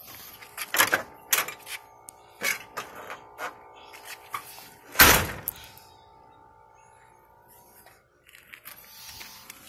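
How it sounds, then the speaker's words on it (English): A 1976 Chevrolet Vega door that does not close properly is worked several times, giving a series of close clicks and rattles and one heavy slamming thunk midway through, with no talking. "you can tell this door ain't shutting right"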